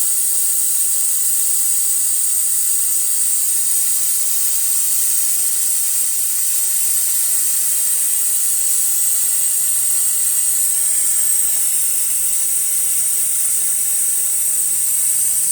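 A suction tool draws power steering fluid out of a Toyota reservoir, giving a steady, loud, high airy hiss that runs unbroken throughout.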